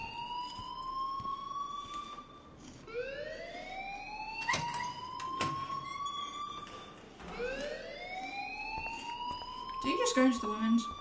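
A school alarm in the video game Life is Strange wails in repeated rising sweeps, each lasting a couple of seconds, with muffled voices and scattered knocks underneath.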